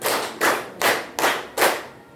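Five sharp group hand claps from a classroom of students, evenly spaced in a steady rhythm, loud and close with no talking.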